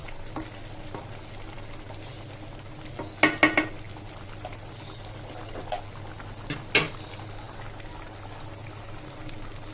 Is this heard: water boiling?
yes